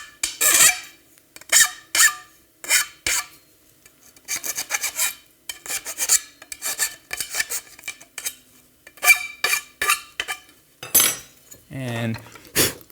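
A tool rasps and scrapes along the edge of a cut polycarbonate sheet in short, repeated strokes, each a crisp close burst with brief pauses between them, ending with a few squeaky scraping rubs.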